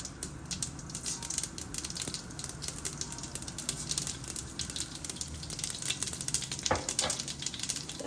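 Mustard seeds and then cumin crackle and sizzle in hot oil for rasam tempering, a steady close frying hiss with dense little pops throughout.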